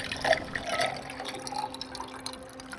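Water poured into a glass as a drink pairing, a short close splashing and gurgling trickle that tapers off, with no talking.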